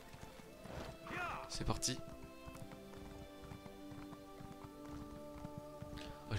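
A horse in the video game The Elder Scrolls Online clip-clops along at a run, steady hoofbeats with a neigh near the start, while someone speaks briefly over the riding.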